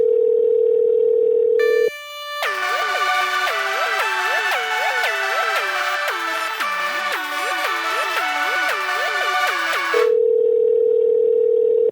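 A steady dial tone cuts out, then a busy run of warbling electronic call-transfer tones plays for several seconds before the plain tone returns.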